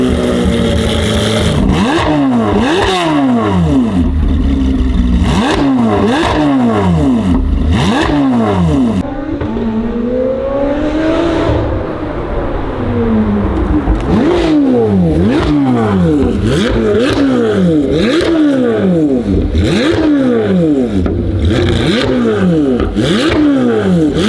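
Corvette C8 Z06 with an AWE SwitchPath catback exhaust revving hard and close, with repeated sharp climbs and drops in pitch, a brief quieter stretch midway with one long sweep, then more rapid throttle blips and a loud, raspy exhaust note throughout.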